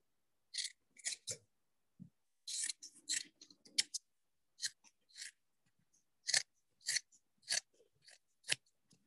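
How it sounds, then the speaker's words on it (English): Scissors snip through fabric at a pillow corner in a string of close, crisp cuts, some quick doubles and some single, separated by brief silences. "at the corner, I'm going to cut that diagonally so I have a nice sharp point there"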